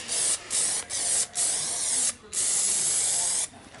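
Short bursts from a spray paint can hiss across freshly welded metal on an E36 car, six or so sprays with brief pauses between them, close and steady, one longer burst near the end.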